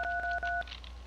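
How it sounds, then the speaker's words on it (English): Telephone keypad dialing tones in the video game Sub Rosa: a few steady electronic DTMF beeps in quick succession, clear and alone, fading into quiet background. "Why isn't this phone working?"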